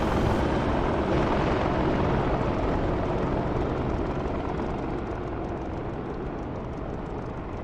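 A simulated aircraft engine roars steadily at high power during takeoff in a flight simulator game, a loud continuous drone with no pauses.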